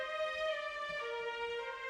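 Sampled violas from the Strezov Sampling Afflatus strings library play unmuted in their natural tone, with bright, full sustained notes and a small pitch change partway through, heard alone.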